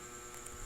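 Air conditioner in a barracks room humming steadily as a faint, constant electrical drone with no other activity.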